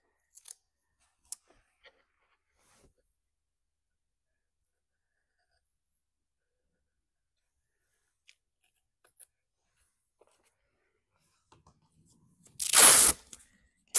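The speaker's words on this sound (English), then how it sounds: "So I need to make a cut, cutting off that excess tape." Scissors snip off excess tape during a primitive farmhouse-style checkerboard craft project, one short loud cut near the end after long near-silence with a few faint ticks.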